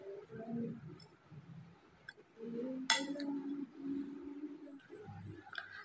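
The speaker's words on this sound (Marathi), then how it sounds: "आता आपण हे सर्व छान असं मिक्स करून घेऊया।" Potato mixture being stirred in a bowl with oregano and chopped coriander, giving soft intermittent scraping and a few light clinks of the spoon against the bowl, close and fairly quiet, with no talking.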